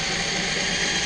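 A screw is driven into a wall plug with a power driver on a DIY deck build, giving one short, steady, close mechanical ratcheting whir with a small bump at the end.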